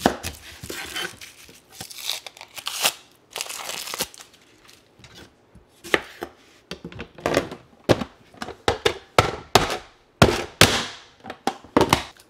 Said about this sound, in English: I'm gonna put it in my chopper. And then I'm gonna do half this onion